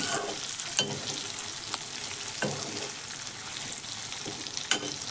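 Bhut jolokia chillies being stirred with tamarind for pickle in a sizzling pan: a steady frying hiss broken by several sharp scraping strokes of a spoon, close up, with no voices.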